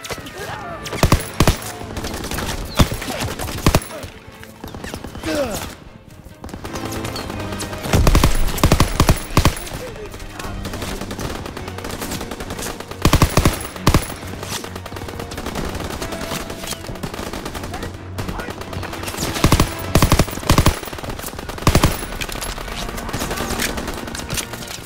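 Machine gun fire in the Call of Duty WWII D-Day beach mission: loud, dense bursts of automatic gunfire and shots run almost continuously amid heavy battle noise.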